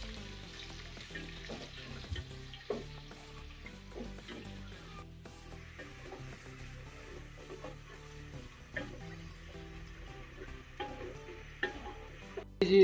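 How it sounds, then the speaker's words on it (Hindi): Onions browning in a pot for a Pakistani arvi gosht curry, a soft continuous sizzle with faint ticks and crackles, fairly quiet and steady with no talking. "अब प्याज को करना है ब्राउन"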